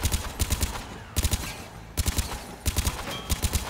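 Gunfire from an inaccurate gun in Mass Effect 3, heard as several separate bursts of three to four rapid shots with brief gaps between them, loud and close with no talking.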